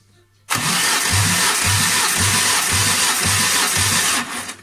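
Car engine cranking on its starter motor during a cold-engine compression test, a loud steady rhythmic churning with regular pulses for several seconds, stopping abruptly near the end.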